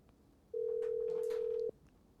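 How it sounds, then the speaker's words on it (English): A telephone call being placed, with one steady ringback tone lasting about a second over low background hiss, loud and close, no talk. "we're going to get him on the phone right now."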